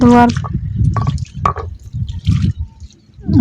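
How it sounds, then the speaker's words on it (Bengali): A stone grinding slab and pestle (shil-nora) is rinsed with water, making scattered close drips, splashes and wet rubbing with quiet gaps between; a brief voice is heard at the very start. "এখন আমি শিলনোড়াটা ধোবো।"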